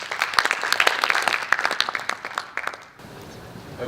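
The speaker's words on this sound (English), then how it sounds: "Please, a round of applause." Audience applause at a plenary conference session welcoming a keynote speaker, a dense burst of clapping that thins and fades after about three seconds, leaving quiet room tone.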